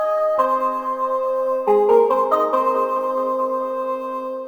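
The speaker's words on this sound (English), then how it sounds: "So this preset is called Nice Pluck from my bank" Nice Pluck synth preset in FL Studio playing a short bright melody, plucked notes stacking into sustained chords, clean and close, alone with no voices.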